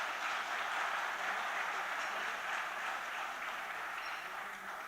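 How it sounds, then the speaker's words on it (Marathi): Steady, dense applause from an audience at a Marathi awards ceremony honoring districts, a continuous wash of clapping at moderate distance that tapers slightly toward the end. "जोरदार टाळ्या होऊ द्या एकदा"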